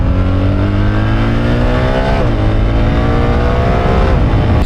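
BMW R1300 GS motorcycle with ASA automatic gearbox, engine droning steadily and loud, with a pitch shift near the middle as it clicks down a gear while riding, no talk.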